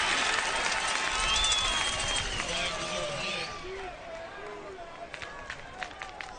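Home crowd at a high school football game, a broad roar of cheering and shouting from the stands that swells, then fades into scattered voices and claps, with an announcer talking over it.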